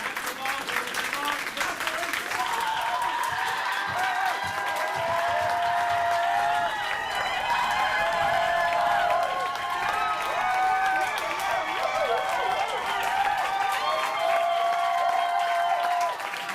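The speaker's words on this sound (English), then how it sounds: "Let's start with a slow clap, and I want it to be like really like, you know, obligatory." An audience claps in a slow, deliberately obligatory way. Steady clapping runs throughout, mixed with crowd noise and voices talking over it.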